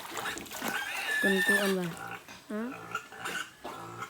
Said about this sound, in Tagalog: mayroong baboy nag-iiwik eh